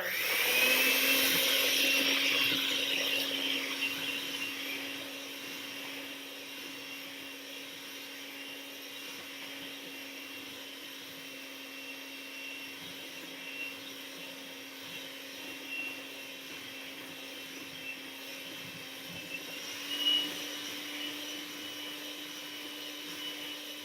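An electric mixer whirring in a bowl during a cooking session, a steady faint motor hum that runs continuously with a small pitch rise near the end.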